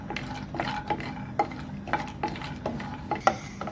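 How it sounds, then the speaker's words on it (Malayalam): Cashew nuts cooking in ghee in a pan, heard as a steady low sizzle broken by repeated light metallic clinks and scrapes of a spoon stirring, close and fairly quiet, with no talking. "ഇനി നമ്മൾ നെയ്യിലോട്ട് അണ്ടിപ്പരിപ്പ് ഇടുകയാണ്"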